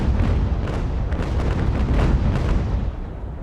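Wooden sailing warship cannons fire a port broadside in Ultimate Admiral: Age of Sail, a rolling barrage of overlapping booms rumbling continuously and loudly before easing off.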